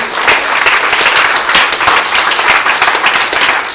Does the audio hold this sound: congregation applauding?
yes